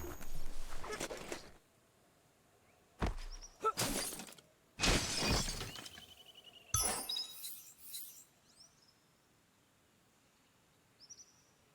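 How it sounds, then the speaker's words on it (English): A box is smashed apart in Biomutant, with several sharp, loud cracking and shattering impacts in quick succession, ending in a few faint clinks over a quiet ambient background. "You shouldn't worry about smashing up the box."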